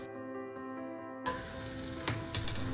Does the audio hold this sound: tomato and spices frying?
yes